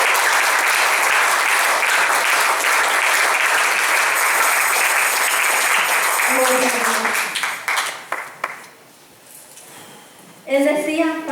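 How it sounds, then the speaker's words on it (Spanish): A church congregation breaks into loud, sustained applause during a sermon, the clapping filling the room for several seconds before thinning out, with a preacher's voice speaking between and after. "Denle un fuerte aplauso a Dios."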